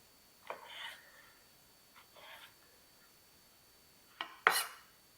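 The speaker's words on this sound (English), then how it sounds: "We'll cut up our other piece of bologna and add it." A knife cuts through bologna on a board for a casserole, a few short separate scrapes and taps with a sharp louder clack near the end, close and quiet with no talk.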